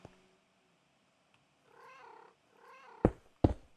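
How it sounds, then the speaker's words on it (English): A Minecraft cat makes two soft purring meows, then two sharp louder thuds or yowls close together as it is dropped through, all without speech. "if we just drop the cat through"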